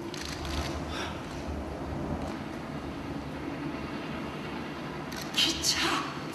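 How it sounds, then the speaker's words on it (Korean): A low, steady train rumble plays as a sound effect during a stage play, with voices audible over it and a brief brighter burst near the end. "기차 소리."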